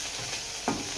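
Noodle ingredients being sautéed in a pan sizzle steadily, with one short, louder stir or scrape partway through a brief moment.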